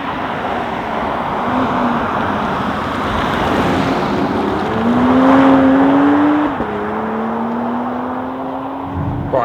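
A BMW X3 M50 with its B58 engine drives along: a steady, throaty engine drone whose pitch climbs then settles, set over broad road and wind roar, heard from inside with no talking.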